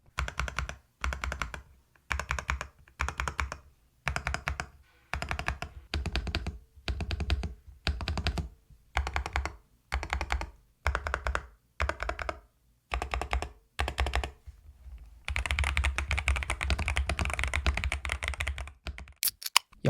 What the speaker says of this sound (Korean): 그럼 짧게 타건음 20초 듣고 오겠습니다.